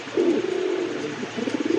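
Racing pigeons at a pigeon sale cooing nearby in a continuous low, throaty warble, loud and clear with no voices over it.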